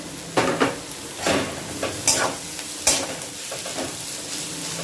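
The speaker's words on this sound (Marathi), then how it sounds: "हाय फ्लेमवरच आपल्याला हे भाज्या सगळ्या परतून घ्यायच्या आहेत" Cabbage and capsicum stir-fried over a high flame for hakka noodles: a constant sizzle broken by several sharp scrapes and clanks of a spatula tossing the vegetables in the pan.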